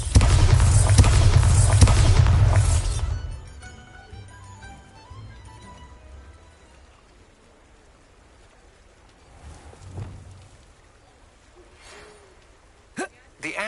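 A Bombarda spell explosion in the video game Hogwarts Legacy bursts with a loud, dense booming blast for about three seconds before decaying into quieter rumbles and scattered game sounds.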